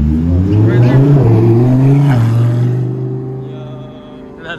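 A Lamborghini sports car engine rumbles and revs close by, its pitch climbing then dropping back, before fading away as the car moves off, with a voice talking over it.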